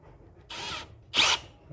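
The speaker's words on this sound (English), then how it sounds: "And now we're just gonna file it with the drill, and then when it goes in, you're done." A power drill spins a small carburetor jet against a file on a 1966 VW Split Bus dual-carburetor setup, giving two short whirring bursts of about a third of a second each, separated by a brief pause.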